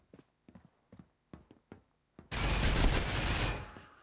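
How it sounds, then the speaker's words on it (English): A pistol in the Critical Ops mobile shooter fires a loud, dense rapid burst lasting about a second, after several soft, evenly spaced footstep-like taps. "my pistol fires kind of fast"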